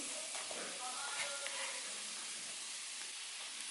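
Soft, steady sizzle of chopped mushrooms sautéing in oil in a hot pan, a continuous hiss with faint stirring, fairly quiet throughout.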